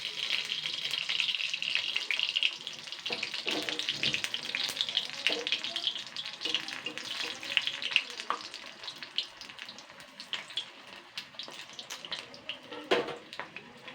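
Batter-coated pumpkin flower fritters fry in hot oil with a steady, dense sizzling hiss. Small crackles and pops run through it, close up and without talk.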